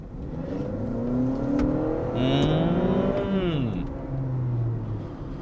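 A Honda CR-V Hybrid accelerating gives off a smooth, rising whir that climbs steadily in pitch and then eases off, heard at moderate loudness with continuous tonal layers and no abrupt gear shifts.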